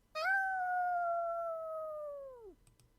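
A dog howling in a video game, heard as a single loud, close, drawn-out howl lasting about two seconds that slowly falls in pitch and fades, with no bark and no talk.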